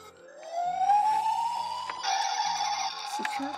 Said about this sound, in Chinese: 消防车声